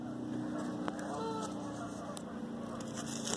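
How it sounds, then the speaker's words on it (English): Geese honking and calling in Cannon Hill Park, Birmingham, a steady close flock chatter running throughout over outdoor background noise. "Got some geese just trying to attack us."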